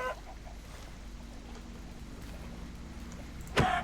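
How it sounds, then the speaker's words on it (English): A Minecraft chicken clucks in the game, a short bright cluck bursting out near the end over a low, steady background hum, with a fainter cluck at the very start. "Please stop clucking."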